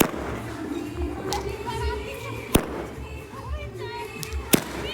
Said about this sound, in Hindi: नहीं यार बकवास स्काई शॉट दिया। घटिया स्काई शॉट दिया यार।